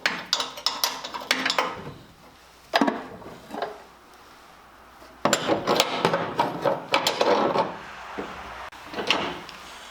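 A wrench works a locking bolt loose on a motor, giving a run of sharp metallic clicks and knocks in irregular bursts, loud and close.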